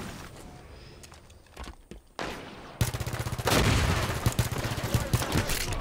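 Gunfire in the Halo 5: Guardians video game, with scattered shots and muffled game sounds at first, then a sustained, loud burst of rapid automatic fire.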